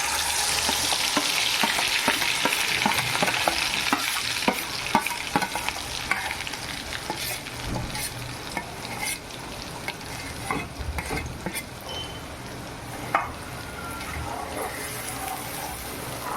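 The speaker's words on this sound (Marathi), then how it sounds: "आता आपलं तेल तापलेलं आहे आता आपण त्याच्यामध्ये हा मसाला घालूया" Spice masala fries in hot oil in a kadhai for a moringa drumstick curry, giving a steady, loud sizzle with scraping stirs and occasional sharp clinks throughout.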